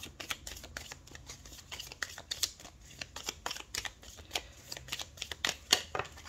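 Tarot cards are shuffled by hand in quick, crisp riffles and flicks, a close, dry pattering of many sharp snaps at an irregular rhythm, fairly quiet and with no one speaking.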